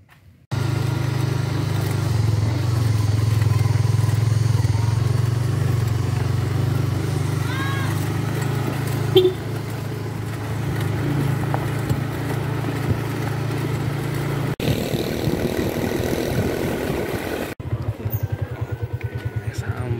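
A motorcycle engine runs steadily close by on a road near Bajawa, a loud, low droning hum with small shifts in pitch, briefly broken by a couple of abrupt cuts.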